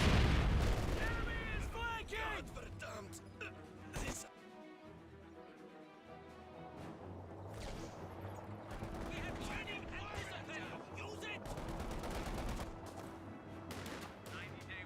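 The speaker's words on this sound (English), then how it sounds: "And now the mortar's going to hit." Mortar and gunfire explosions from a Company of Heroes 2 battle, a dense run of sharp blasts and bursts under continuous commentary, loud throughout with a brief lull mid-clip.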